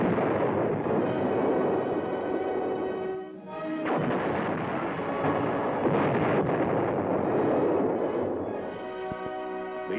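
An M60 Patton tank fires its cannon during combat exercises, heavy booming blasts with a sharp report and long rolling echo, loud and close with no talking.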